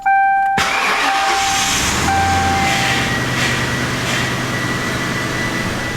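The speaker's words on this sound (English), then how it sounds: "Let's start the car." A car engine cranks and catches, then settles into a steady idle with a continuous low rumble close by; no one speaks.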